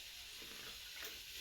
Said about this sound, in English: That iron is like sizzling.